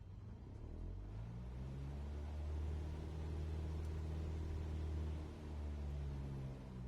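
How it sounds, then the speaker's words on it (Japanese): Aircraft engine in a Garmin G1000 flight simulator throttling up, a steady low droning rumble that swells and holds, with no talk over it. "それではスロットルを上げていきましょう"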